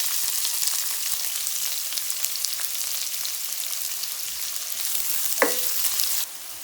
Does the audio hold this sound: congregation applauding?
no